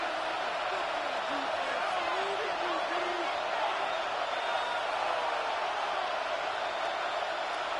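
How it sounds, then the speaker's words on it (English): A stadium crowd at an American football game before a third and long: a loud, steady roar of cheering and noise that fills the whole stretch, with no single voice standing out. "The crowd cranking it up another notch before third and long"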